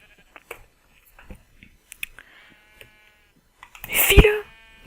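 A black sheep in the Minecraft video game gives a short, loud bleat near the end, preceded by sparse soft game clicks and footsteps.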